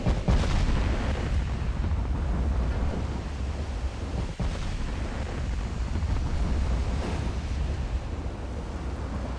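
Naval shells roaring in during an Ultimate Admiral Dreadnoughts battle, a dense, continuous rumbling wash like surf and wind, with a few sharp impacts near the start and around the middle.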